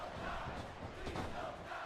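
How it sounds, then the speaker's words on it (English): A crowd chants in a WWE wrestling video game, a broad roaring wash of many voices rising and swelling in waves, heard at a distance under game sound. "I love the crowd chant"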